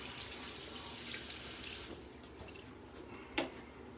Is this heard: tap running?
yes